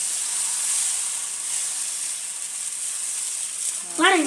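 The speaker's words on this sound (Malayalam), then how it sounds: "അങ്ങനെ ദോശ ചുടുന്നുണ്ട്" Dosa batter sizzles on a hot pan in a steady, close hiss, with a brief voice breaking in at the very end.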